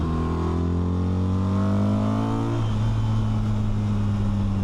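A 2026 BMW R 1300 RT motorcycle engine revs loud and close, its pitch climbing steadily under acceleration before a shift drops it to a lower, sustained drone.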